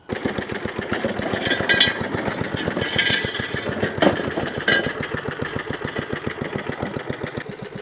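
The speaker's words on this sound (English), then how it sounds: "I just want to get the cylinder mower on, see if we can get it even shorter" Small Swardman cylinder lawn mower engine running at a steady, rapid chugging rhythm close by, with occasional brief rattles and clatter on top, continuous with no talking.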